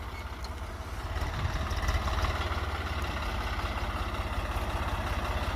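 A Swraj 744 FE tractor's 3-cylinder, 3136 cc diesel engine idles close by, a steady low, rhythmic chugging pulse that swells slightly near the start and then holds even, with no talking.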